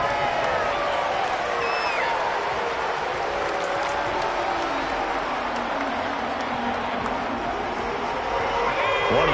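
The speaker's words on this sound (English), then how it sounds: "the crowd getting into it as we come up on a big 3rd down" A football stadium crowd at a Packers at Bears game roars and cheers ahead of a big third down, a sustained loud wash of crowd noise with scattered whistles and shouts throughout.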